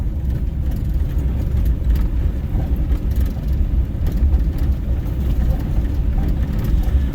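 A 1960 Rambler American engine idles nearby with a steady, low, rumbling drone that stays constant throughout; its carburetor is out of adjustment.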